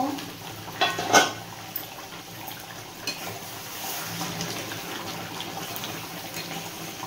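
Mutton being stirred in a pot for a Dakbungalow curry, with a few clanks of a spoon against metal near the start, then a soft ongoing bubbling and scraping.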